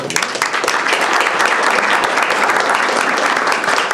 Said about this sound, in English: let's give her at least 2 round of applause